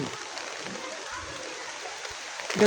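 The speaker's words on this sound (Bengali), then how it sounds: "প্রচণ্ড বৃষ্টি হচ্ছে" Steady heavy rain pours down in a dense, hissing wash, continuous and fairly loud, with no voices.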